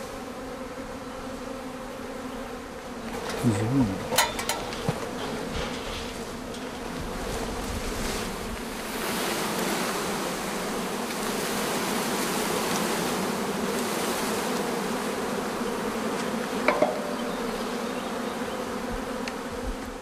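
A captured swarm of honeybees drones calmly and continuously, a dense close buzzing that fills the whole stretch, with a brief louder flurry near the start and a soft spoken word.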